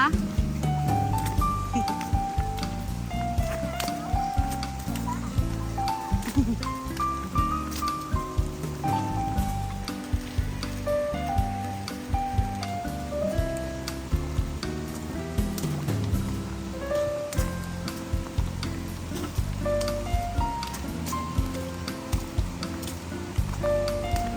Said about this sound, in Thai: มาถึงจุดนี้ได้ยินเสียงน้ำแบบดังมากเลยนะคะ